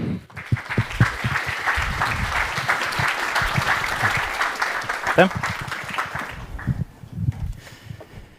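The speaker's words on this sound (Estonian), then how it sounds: "Aga võtame siis Taavi suure aplausiga vastu." Audience applause at an investment festival workshop welcomes a speaker to the stage, dense steady clapping lasting several seconds before tapering off near the end, with a little voice mixed in.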